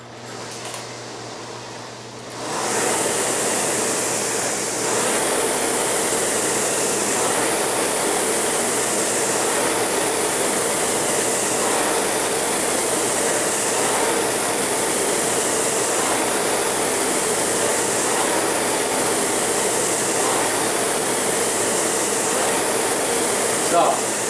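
A rowing machine in adaptive rowing use starts up after a quiet moment, then a continuous loud whooshing whir with regular surging strokes every couple of seconds carries on.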